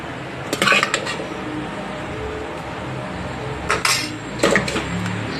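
Boiled moong beans added a little at a time and mixed in a pan over low flame: metal spoon clinks and scrapes against the pan in short bursts over a soft background.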